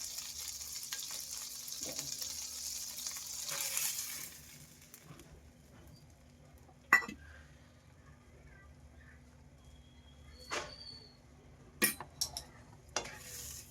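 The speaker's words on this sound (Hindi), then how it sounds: "इसमें सबसे पहले हम बटर डालेंगे और हमने जो रवा लिया है, सूजी लिया है, उसे कम आंच पर मीडियम ब्राउन होने तक भून लेंगे।" Semolina (rava) is roasted in homemade butter in a pan on low heat for upma. A soft hiss and sizzle fills the first few seconds, then a quieter stretch is broken by scattered sharp clinks and scrapes of a utensil against the pan.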